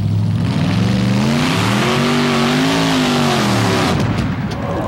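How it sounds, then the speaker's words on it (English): A supercharged two-wheel-drive super modified pulling vehicle, engine set on the nose, revs hard at a pulling competition, its loud roaring note rising and falling with a crackle near the end. "Supercharged engine set right on the nose of the vehicles."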